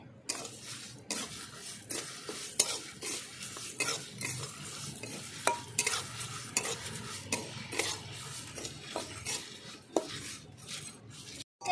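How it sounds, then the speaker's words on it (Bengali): Whole spices including black cumin are dry-fried in a pan for a red chili pickle, with repeated scraping stirs of a utensil against the metal, clinks and a light sizzle running steadily throughout, close up and with no talking. "একই সঙ্গে আমি সব এটা ভেজে নেব ভালো করে"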